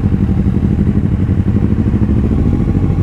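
A Kawasaki Z1000 motorcycle with dual exhausts rumbles steadily and loudly throughout, a deep throaty exhaust note holding close by with a slight pulsing rhythm.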